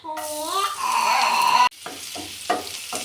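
Garlic sizzling loudly in two to three spoons of hot olive oil in a pan, a steady bright crackle that briefly stops and resumes with softer spatters and stirring.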